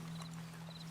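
Horse hooves clip-clopping in the Red Dead Redemption 2 video game, quick faint hoof taps over a steady low hum.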